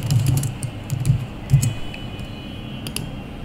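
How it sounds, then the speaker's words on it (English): Keystrokes on a computer keyboard while typing a title into a Google spreadsheet, coming as a few soft, close clicks in short bursts, then thinning to sparse taps against a quiet room hum. "you can now type in a title"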